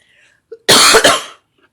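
A single close, sharp cough with a quick double burst, preceded by a faint throat sound in near silence.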